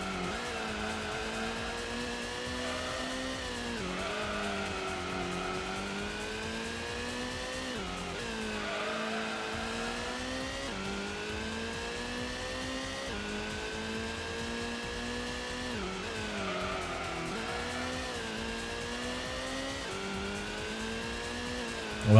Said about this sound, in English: Multiple cars are going into the pits as well.